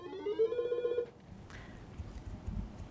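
An elementary school academic quiz match buzzer rings in with a bright electronic tone lasting about a second, followed by quiet room noise.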